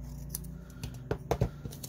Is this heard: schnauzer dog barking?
no